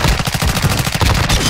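Rapid automatic gunfire from Call of Duty Modern Warfare II, a loud continuous burst of closely spaced shots lasting the whole moment, with no talk over it.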